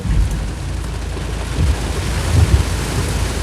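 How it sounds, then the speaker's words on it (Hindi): Low rumbling thunder rolls beneath a steady wash of rain, swelling in brief surges, with no one speaking. "वो हो बाहर तो तूफ़ान है"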